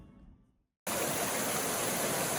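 River water flowing in a steady, broadband rush that cuts in suddenly after a brief quiet moment, close and continuous to the end.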